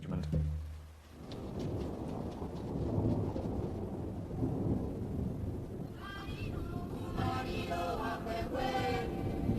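A low rumble of thunder over steady rainfall, with some brighter calls or voices rising later.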